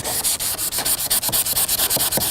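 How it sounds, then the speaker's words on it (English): Hand sanding a hazy car headlight with sandpaper, steady back-and-forth strokes, a regular scratchy hiss repeating about seven times per second, close and loud with no voices. "we're going to simply sand by hand"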